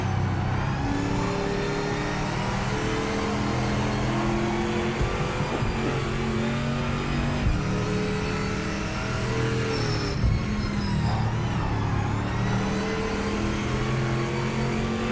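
A race car engine revving hard in the Project Motor Racing video game, GT Icons pack, with steady loud engine drone rising and falling through gear shifts over about fifteen seconds, close and continuous with no talking.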